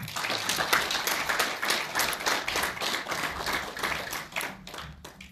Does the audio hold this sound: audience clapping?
yes